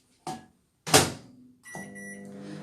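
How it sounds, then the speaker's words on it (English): Chunks of chocolate being set in a microwave oven: two short thumps like the door and a button press, then the steady hum of the oven running with a faint tone riding on it. "and then I'm popping it in the microwave"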